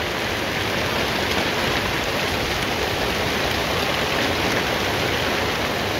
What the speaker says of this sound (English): You can see it's slightly raining.